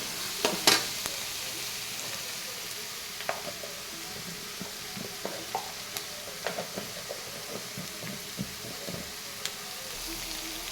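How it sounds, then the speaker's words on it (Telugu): Country chicken eggs frying in a pan until light golden, a steady close sizzle with occasional sharp spatula scrapes and taps scattered throughout, no voices. "లైట్ గోల్డెన్ కలర్ వచ్చేంత వరకు వేగనివ్వాలన్నమాట."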